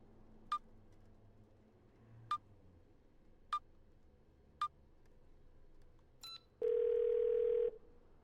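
In the video game 12 Minutes, a telephone receiver gives a series of short, evenly spaced clicks and ticks, then a brief beep and a loud, steady dial tone that lasts about a second.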